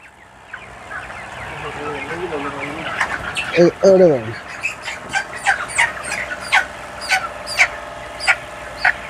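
Chickens cluck and squawk in a series of sharp calls on a poultry farm, rising in frequency toward the end, with a person speaking briefly among them in the background.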